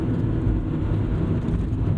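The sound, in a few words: 1997 Honda Civic Type R EK9 driving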